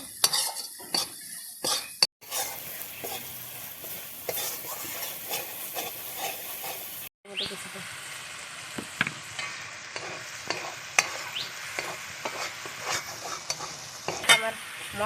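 Spice masala for chicken curry sizzles and fries in a pan while a spoon stirs and scrapes through it, with clinks of metal on the pan. A steady hiss runs under repeated stirring strokes, cut by two brief pauses.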